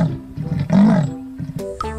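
A cheetah roars in the Animal Revolt Battle Simulator video game, a loud, rough growl swelling near the middle and then fading, with short clattering game effects closing the clip.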